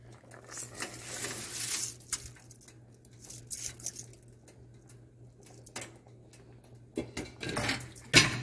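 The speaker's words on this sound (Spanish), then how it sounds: "ya vamos a poner el arroz" Rice goes into a cazuela cooking pot for arroz congrí, giving scattered pattering and scraping bursts with clinks of utensils against the pot between quieter pauses.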